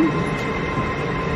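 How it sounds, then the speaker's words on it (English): A long passenger train rolls past in a steady, close rumble with continuous wheel and carriage noise, no voices over it. "It's a long train. It's so freaking long."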